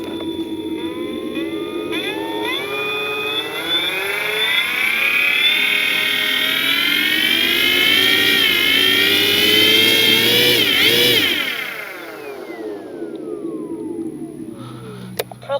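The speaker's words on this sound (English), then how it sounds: "Motor is on. Be careful." The electric motor of an FMS P-47 Thunderbolt RC plane runs up on the ground with a loud, close, high whine that rises in pitch, holds, then spins down near the end.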